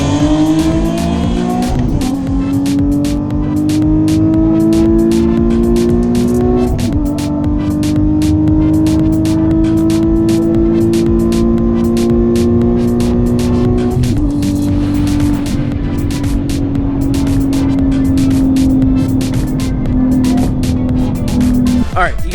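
A Nissan 370Z races hard, its engine droning and climbing steadily through several gear changes, with a rapid stream of crackling exhaust pops layered on top.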